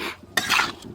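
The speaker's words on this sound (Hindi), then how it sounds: "इसको दोबारा मिक्स कर देंगे।" Radish pickle with spices and kalonji is mixed in a vessel, a brief close scrape and clatter of a spoon against the pot, rising once and then fading.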